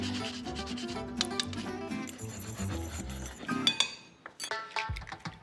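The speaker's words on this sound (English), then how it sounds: "We're just gonna take a fine hand grater and just grate the nutmeg right into the dry ingredients." Whole nutmeg rubbed over a fine hand grater into dry baking ingredients, a steady scraping rasp that repeats up close, mixed with light clinks of kitchen utensils and dishes and no speech.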